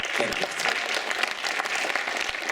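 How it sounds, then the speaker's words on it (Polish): Audience applause at a Polish patriotic and religious song festival results announcement, a brief burst of many hands clapping, dense and steady. "Także jeszcze raz duże brawa."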